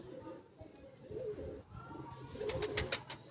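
Pigeons at a breeder's loft give soft, low murmuring coos, close by, followed by a short burst of sharp flapping or clattering near the end, with no clear talk.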